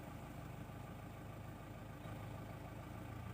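A car's diesel engine idling steadily just after a DPF regeneration, a continuous low rumble with a faint rhythmic throb, close and even throughout, with no start-up burst evident.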